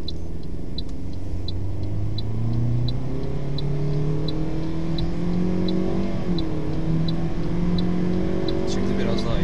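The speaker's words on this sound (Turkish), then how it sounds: "Şu an tekrar bir hızlanmayı deneyeceğim." Toyota Yaris 1.33 car accelerating in an empty open lot, engine tone climbing steadily through rising harmonics with a brief dip near the end, steady and close, with a faint repeating ticking over it.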